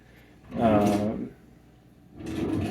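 A kitchen drawer slides open or shut twice, each a short wooden rumble with a pause between them, heard close up with a faint voice-like tone under the first.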